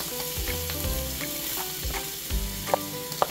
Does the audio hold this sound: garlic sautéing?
yes